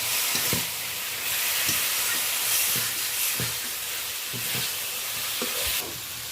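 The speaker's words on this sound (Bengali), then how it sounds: "ভেজে রাখা আলুটা মশলার সাথে দিয়ে আরও 2-4 বার আমি ভালো করে নেড়ে নেব।" Fried potatoes stirred into cooked spice masala in a pan, a steady loud sizzle with repeated spatula knocks and scrapes at an irregular rhythm, close and without talk.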